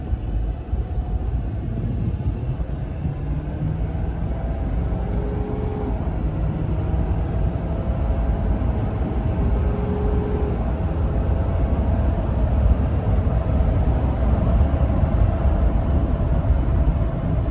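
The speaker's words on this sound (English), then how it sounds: "just going to let it shift through the gears so you can hear it" A 2018 Ford F-250 Platinum FX4 with a 6.7L Powerstroke diesel drives along, its engine and road noise a steady loud rumble throughout as it shifts up through the gears, with no voices.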